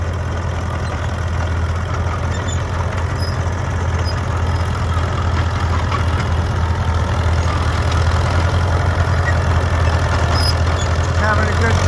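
A crawler tractor's engine runs steadily as it throttles up a hill, a loud continuous low rumble with a strong drone throughout and faint background noise.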